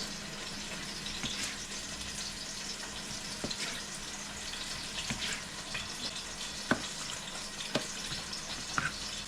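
Ahi tuna sears in a hot pan with a few onions, giving a steady low sizzle throughout, with occasional faint clicks and pops and no one talking.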